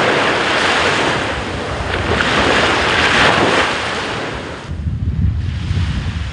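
Sea waves wash onto a beach in a steady broadband roar that swells and recedes, with gusty wind buffeting the microphone and a softer, rumbling surge near the end; no voices.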